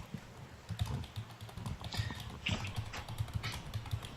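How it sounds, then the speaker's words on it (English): Someone types on a computer keyboard in a series of quick, close clicks and taps. The keystrokes come in irregular bursts over quiet room background, with no talking. "Somebody is typing."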